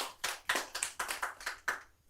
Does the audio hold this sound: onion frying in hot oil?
no